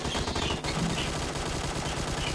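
Rapid automatic gunfire from the mobile battle royale game PUBG Mobile, loud and continuous bursts over about two seconds with a brief break midway.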